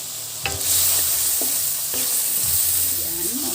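Meat sizzling and being stirred with sautéed garlic and onion for pancit bihon, a steady close frying hiss with a few scraping stirs of the spoon.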